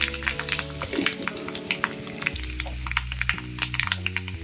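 Mustard seeds and dried red chillies fry in about three tablespoons of hot coconut oil, giving a steady close sizzle dotted with sharp popping crackles as the seeds burst, over soft background music.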